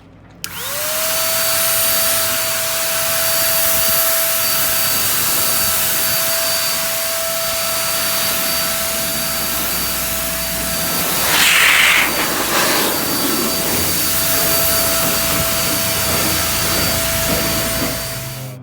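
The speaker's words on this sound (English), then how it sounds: "simple air dryer" A powerful air dryer starts up and runs with a steady loud whooshing roar and a high whine, with a brief rustling burst midway, while detailing a BMW M5 Competition interior.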